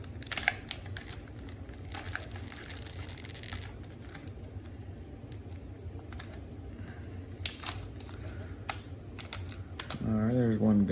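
A G.I. Joe figure is worked free of plastic packaging wrapped in lots of tape, with close crinkling, tearing and rustling that repeats irregularly throughout, and someone talks near the end.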